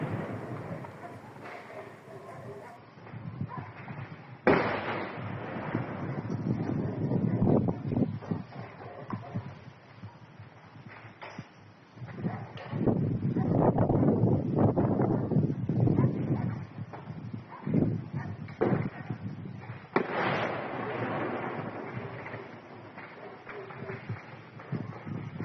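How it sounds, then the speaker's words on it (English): Several sharp, loud bangs, secondary explosions of small arms ammunition stored in a building, burst out among a rough, rumbling background, with a steady crackle between them and a voice talking faintly at times. "we can hear what sounds like multiple secondary explosions, probably small arms ammunition being stored in this building"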